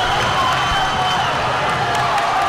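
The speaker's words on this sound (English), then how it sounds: "And the crowd is going crazy after that block" Loud crowd cheering and applause fill a high school boys basketball gym right after a big block, a steady roar with scattered whoops throughout.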